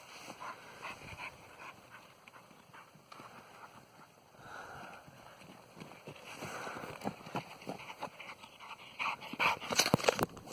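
Dogs out on a walk in the snow pant rapidly and unevenly nearby, with scattered paw and foot crunches and occasional small whimpers, getting busier and louder toward the end.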